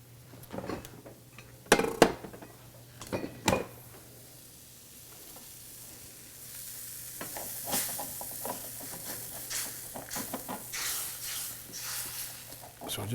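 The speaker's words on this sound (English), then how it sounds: "That's going to deglaze the pan and lift all those great tasting brown bits off the bottom of that." A pan sizzles softly while being deglazed during a pork shoulder blade roast, with sharp clanks of a utensil scraping the bottom early on, then a steady hiss building under faint background hum.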